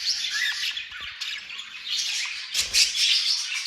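Pet parrots kept for breeding chirp and squawk in quick, bright bursts close by, with a noisier flurry of calls near the end.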